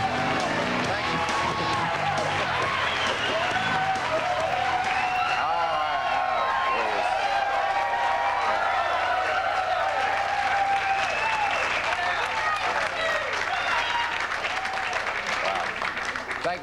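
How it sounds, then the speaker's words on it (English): Studio audience of a 1995 late-night talk show applauding steadily, loud and dense throughout, with scattered whoops and cheers mixed into the clapping. "Thank you for that irony applause."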